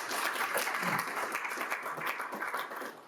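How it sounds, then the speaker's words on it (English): A university conference crowd breaks into a dense round of applause for the event's supporters. The clapping is full and sustained from start to finish. "give a little round of applause for them."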